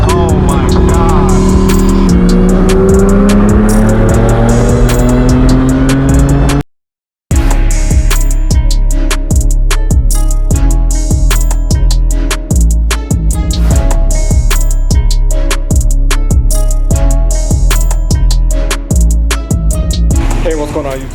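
A straight-piped BMW M4 F82 roars loudly, its exhaust note climbing through the gears before a brief cut, then crackling and popping in rapid bursts over music.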